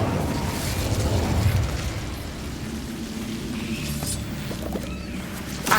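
Incendio fire spell blast cast in the Hogwarts Legacy video game, a loud rumbling whoosh of flame that swells over the first second and a half, then settles into a steadier crackling roar with a brief burst near the end.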